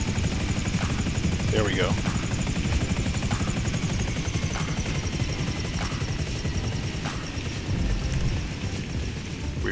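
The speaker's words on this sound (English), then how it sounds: "Let's try to land the helicopter without crashing." A helicopter in the video game GTA 5 Online thrums loud and steady as it flies and sets down, its rotor drone constant throughout while a player speaks briefly over it.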